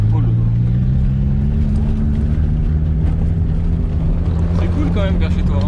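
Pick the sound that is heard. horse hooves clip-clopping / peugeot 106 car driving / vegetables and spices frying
peugeot 106 car driving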